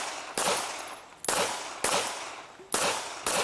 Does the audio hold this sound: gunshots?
yes